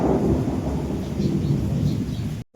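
Heavy out-of-season summer rain pours down in a steady, loud roar with deep rumbling, continuing without pause before cutting off abruptly near the end.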